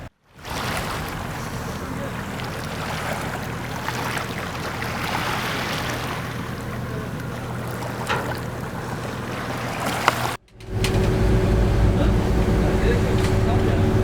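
Steady broadband rumble of a boat moving over Lake Van, with wind and splashing throughout; a brief cut midway, then a louder, closer engine drone.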